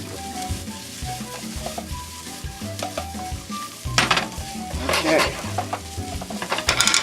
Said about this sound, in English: your onion is starting to become a lot more tender by being cooked in that oil